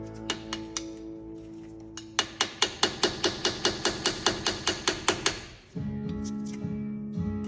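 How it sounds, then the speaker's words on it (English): A hammer taps out a part while a new axle is fitted, first with a few light strikes, then a steady run of about a dozen sharp metallic blows, followed by a lower mechanical hum. "Let me get a hammer and tap this out."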